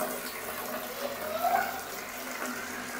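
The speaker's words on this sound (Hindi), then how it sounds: "पानी भरते हैं थोड़ा बाल्टी में।" Water runs from a tap into a bucket in a bathroom before a toilet is cleaned, giving a steady, fairly soft splashing hiss that lasts throughout.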